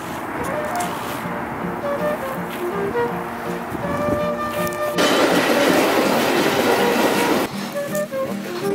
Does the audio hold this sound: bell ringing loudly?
no